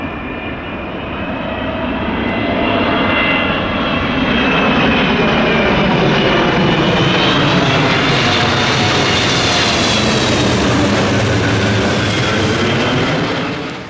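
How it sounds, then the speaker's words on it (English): A Boeing 777 jet airliner passes by, a loud, steady roar of engines that swells and holds for many seconds with a slowly shifting, sweeping tone and no voices. "All right, so that 777 just went by"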